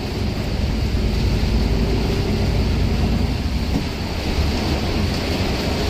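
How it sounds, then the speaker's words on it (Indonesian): Heavy rain pours in a steady, dense roar with no pauses, loud and close, filling the whole stretch without any voices. "Hujan deras"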